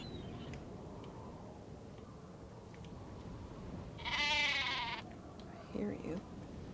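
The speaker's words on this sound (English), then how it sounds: "hate trying to find all the sheep." A sheep in a Nancy Drew video game gives one loud wavering bleat, followed moments later by a shorter, fainter bleat, over a quiet hum and occasional soft ticks.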